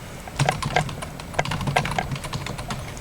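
Quick typing on a computer keyboard, a dense close patter of key clicks running without pause for a few seconds over faint room noise.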